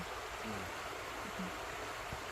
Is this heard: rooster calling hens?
no